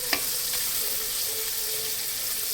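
Lata fish sizzling in oil in a wok (kadai) while being stirred, a steady close frying hiss with a couple of sharp scraping clicks near the start.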